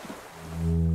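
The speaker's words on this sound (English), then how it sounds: "The distant sound of cargo ships' signal horns echo over the water" In Disco Elysium, a low, drawn-out cargo ship signal horn sounds across the water, a deep tonal blast swelling in after a soft start and sustaining to the end.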